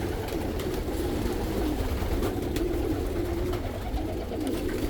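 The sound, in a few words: Hungarian and Dutch homing pigeons cooing in a loft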